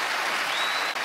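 A short burst of thick, sustained audience applause for Carly Fiorina at a presidential debate, many hands clapping at once with no voices on top.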